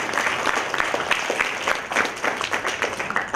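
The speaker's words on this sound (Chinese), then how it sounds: "再次掌声感谢我们的评审" An auditorium audience claps steadily for the judges at the 2018 national Chinese secondary-school debate final in Kuala Lumpur, with crisp, even hand claps that stay close and continuous.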